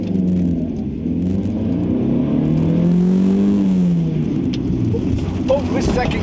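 A 1989 Honda Accord accelerates on an autocross course, its engine climbing and falling in pitch as it revs through the gears, loud and close from inside the car, with a driver's voice briefly heard.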